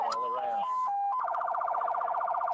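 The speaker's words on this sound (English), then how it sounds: "The truck was outfitted with flashing lights and a siren like law enforcement uses" A police-style siren wails from a truck fitted out like a law enforcement vehicle, first sweeping tones, then a rapid warbling yelp that repeats steadily, loud and close.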